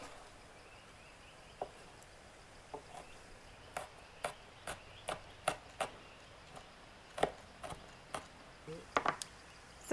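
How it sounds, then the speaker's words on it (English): A knife chops red and green chilies on a board for a Thai fish-sauce dipping sauce, giving sparse, irregular, faint taps that cluster more quickly toward the end, with no voice. "we're gonna chop the chilies"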